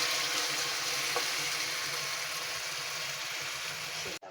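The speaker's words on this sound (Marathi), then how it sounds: "त्याच्यामध्ये आपण पाणी टाकूया शिजायला." Water poured into a pan of cluster beans and green chillies for simmering, a steady close rushing pour lasting several seconds before stopping abruptly.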